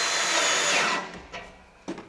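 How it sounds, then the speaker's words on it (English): A power drill slowly driving screws into a garden raised bed whirs steadily for about a second, then stops, followed by a few faint clicks and a short knock. "Now the thing is to put some pressure on and drill slowly."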